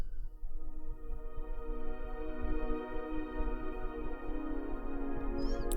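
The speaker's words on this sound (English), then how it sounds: "a pad from FM Tons. Sounds like this." A sustained synth pad from the FM Tons library holds layered chords in a steady, dense wash, playing alone at moderate volume as a background layer for a hip-hop beat, with a brief high flourish near the end.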